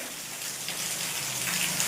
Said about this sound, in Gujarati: વરસાદ એ કન્ટિન્યુ ચાલુ જ છે